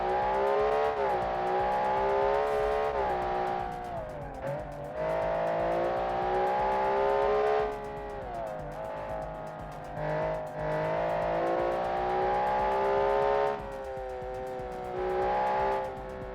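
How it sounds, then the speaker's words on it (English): High-revving boxer six engine of a stock car in a racing video game, a sustained loud engine wail that rises and falls through repeated gear changes, with brief dips between upshifts. "High revving Boxer 6 is very nice."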